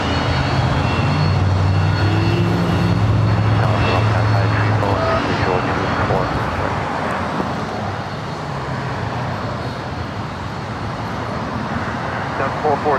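Fixed-wing airliner roars past at LAX, a loud steady engine rumble with droning low tones easing slightly toward the end, with traffic noise beneath.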